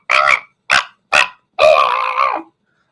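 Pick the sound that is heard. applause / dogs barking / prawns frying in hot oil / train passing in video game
dogs barking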